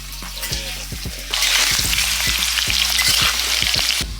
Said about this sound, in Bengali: আলু ভাজা হয়ে গেছে তুলে নিচ্ছি